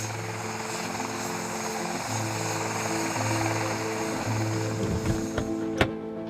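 Yorkshire air ambulance helicopter with its rotors spinning up on the ground, a steady loud engine whine and low rotor drone holding throughout, with a few sharp knocks near the end.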